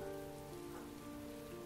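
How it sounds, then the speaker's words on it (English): Rain falls steadily in the video game Heavy Rain, an even, quiet wash of drops on surfaces over a low held musical drone, with nobody talking. "It's raining."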